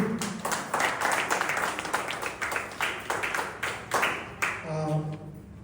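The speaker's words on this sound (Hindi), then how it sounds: "तो मैं चाहूँगा एक जोरदार तालियां इन कलाकारों के लिए।" An audience applauds performers after a stage play presented by a disabled sports and welfare academy in Patna. Steady, dense clapping fills most of the moment, then thins out near the end as a voice and tones come in.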